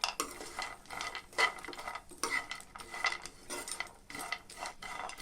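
Dried date pieces being fried in ghee in a pan, heard as repeated metallic scraping and stirring clinks of a utensil against the pan in an irregular rhythm, close and moderately loud, with no talking.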